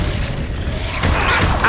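Confringo explosive spell in Hogwarts Legacy, a sharp bursting blast with shattering debris right after a stretch of muffled game noise, loud and close.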